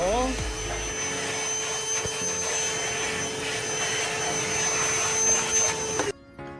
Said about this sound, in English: Once you're done, you're going to vacuum out the hole.